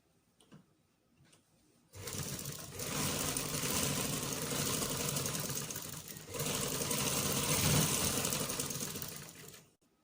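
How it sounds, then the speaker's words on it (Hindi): After a short quiet start with faint handling, a sewing machine runs steadily, stitching the back crotch seam of a jumpsuit with a close, loud mechanical whir and a brief dip midway before stopping near the end. "पहले मैं बैक साइड के क्रोच की सिलाई लगा रही हूँ।"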